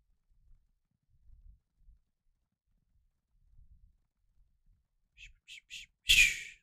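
Horse hooves clip-clop in the video game Elder Scrolls Online: soft, scattered low thumps give way to a quick run of sharper hoof clops and a louder final burst.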